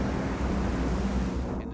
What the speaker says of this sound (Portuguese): O vento não dava trégua